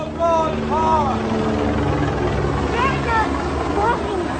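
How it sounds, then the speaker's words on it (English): A military helicopter drones overhead during an outdoor street protest, a steady low rotor rumble beneath voices that talk and shout throughout. "Is that a military helicopter right"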